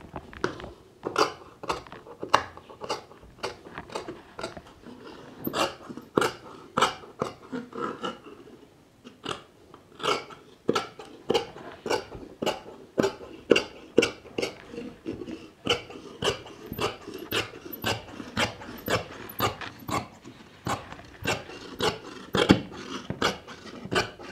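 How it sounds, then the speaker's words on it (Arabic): Scissors snipping through fabric during a beginner sewing and garment-cutting lesson, a steady run of close, sharp crunching cuts in quick rhythm with a brief pause partway, no talking. "دابا غادي نقطع الثوب ديالي"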